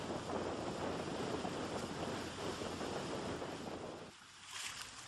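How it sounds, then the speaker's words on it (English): Wind at 30 knots roars across the microphone over 6-foot seas off Point Judith, aboard a sailboat. A dense, loud, steady rush of wind and water continues throughout and eases briefly near the end. "We're in 30 knots of wind and 6-foot seas"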